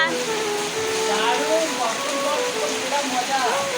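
Rain falls in a continuous, steady patter on nearby surfaces, with voices talking over the wash of the downpour.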